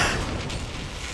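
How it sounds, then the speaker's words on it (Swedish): An explosion in Far Cry 4 gives a loud, broad rumbling roar that fills the whole clip and slowly tapers; no voices. "Vilken explosion."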